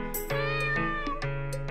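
A black stray cat in a spooky mansion video game gives a clear, close meow followed by a few shorter repeated mews, with no talking.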